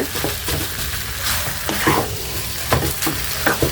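Semolina is stirred and scraped around a pan as it fries, giving a steady, close, gritty scraping with repeated spoon strokes over a soft, constant sizzle. No voices are heard.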